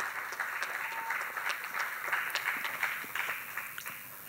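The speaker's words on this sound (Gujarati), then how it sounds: "એકવાર ખૂબ તાળીઓ થવી જોઈએ સિસોદિયા સાહેબ માટે." An audience at a Gujarati literary gathering applauds the poet Sisodiya, a dense, sustained round of clapping from many hands, fairly distant and even, tapering slightly toward the end.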